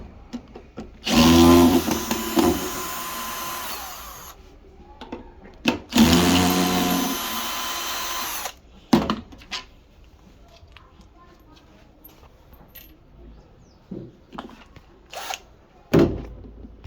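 A power drill backs out two long screws from an LG washing machine during a drain pump repair, giving two loud, sustained whirring bursts of a few seconds each, followed by quieter clicks and handling knocks.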